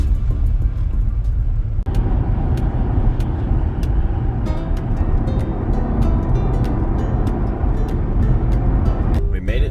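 Steady, loud road rumble of a car driving down the highway from the Black Hills back toward Brookings, with a continuous low-pitched drone lasting the whole stretch.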